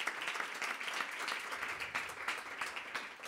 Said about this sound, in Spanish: nace de la mano de Fernando Neira, por favor un aplauso para él.